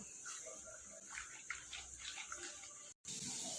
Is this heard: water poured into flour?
yes